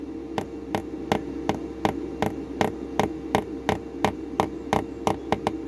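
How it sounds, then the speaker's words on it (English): A hammer lightly taps the wheel of a diecast MG model during restoration, a quick run of about fifteen close metallic knocks in a steady rhythm that speeds up toward the end, over a faint background hum. "lightly with the old sooty hammer."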